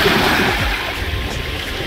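Sea waves washing in a broad, continuous roar of surf with low rumbling swells, steady and fairly loud with no talk.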